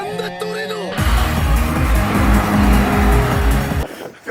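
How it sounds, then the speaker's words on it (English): Car drifting at a car meet, engine roaring and tires squealing loudly as it slides past, cutting off abruptly near the end with brief voices before and after. "これぞ本物のドリフト。"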